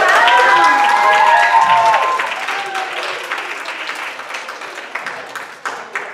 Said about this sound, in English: give your guys a round of applause for finishing 4 rounds